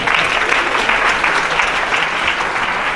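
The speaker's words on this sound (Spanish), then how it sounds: "Un fuerte aplauso para Iván Martínez." A crowd at a magic congress applauds steadily for about three seconds, dense and sustained clapping from many hands with no break.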